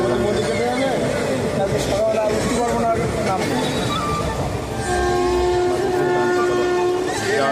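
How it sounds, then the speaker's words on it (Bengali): A fast passenger train in India rushes along with a loud, steady roar of wheels and wagons, heard from on board with continuous rumble and rattling, while people talk over it. "এই ট্রেন যাচ্ছে মারাত্মক স্পিডে টানছে গাইজ।"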